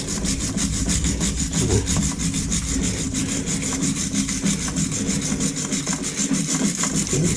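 Steady, continuous rubbing and scraping while rusted magnets on an Echo HC-1500 are cleaned, a dense rasping texture close by and running throughout without pauses or talk.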